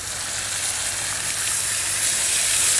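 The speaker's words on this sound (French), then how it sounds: "on va commencer à pouvoir mettre notre eau simplement pour déglacer et laisser infuser les sucres de la" Water hits a hot pan to deglaze meat while cooking a gratin dauphinois, raising a loud, continuous hissing sizzle that builds slightly in intensity.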